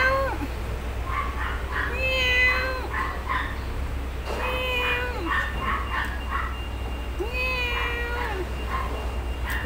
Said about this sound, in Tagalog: Ito naman mga cat.